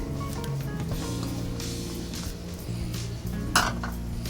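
Boiled dal with coriander being stirred in a pot, soft scraping and clinking of a utensil against the metal over a low steady background hum, close up, with one sharper clink near the end.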